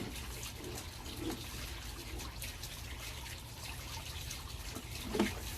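Water draining through a sewer line, a continuous low trickling rush with faint drips, steady throughout and without speech.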